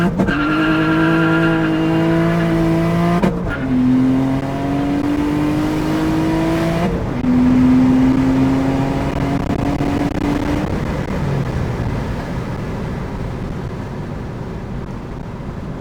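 A turbocharged V6 Honda Accord launches hard on a street quarter-mile run, the engine screaming up through several gears with brief breaks at each shift, tires spinning, loud and close.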